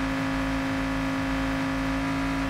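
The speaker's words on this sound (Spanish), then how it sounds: "el coche suena demasiado alto para mi gusto" A car engine in the heist video game Payday 2 drones at steady revs, a loud, constant humming whir with a strong tonal core and faint rhythmic pulsing underneath, with no talk.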